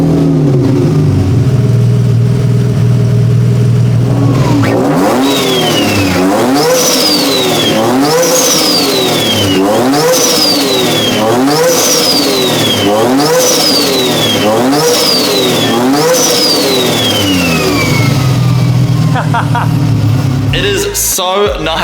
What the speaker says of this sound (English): It is so nice to hear this thing without any exhaust leaks. And did you hear that flutter?